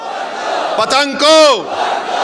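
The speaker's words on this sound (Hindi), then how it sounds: "मेरे साथ नारा लगाइए, नारे तकबीर, नारे तकबीर" A rally crowd shouts the slogan Nara-e-Takbir in two loud, close bursts of massed voices, the second longer and stronger, over a steady murmur of the gathering.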